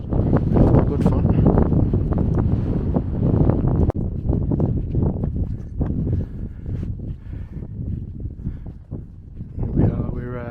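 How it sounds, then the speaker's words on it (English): Strong wind roars and buffets the microphone near the summit of Cadair Berwyn in rainy, low-visibility weather, a loud continuous rush with gusts that ease slightly toward the end. "It's windy"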